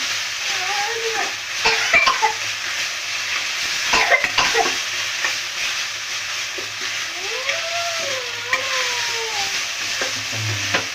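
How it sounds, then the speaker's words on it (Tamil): Masala sizzling in a pan for a ladies finger curd gravy as it is stirred and sautéd, a steady close hiss broken by scraping strokes, with a voice talking over it in places. "இந்த பச்சை வாடை போகிற வரைக்கும் கொஞ்சம் நல்லா வதக்கிக்கலாம்"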